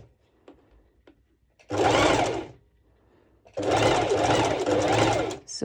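A sewing machine sews a zigzag stitch on fabric for a sporty top, two loud close bursts of rapid whirring separated by a quiet pause.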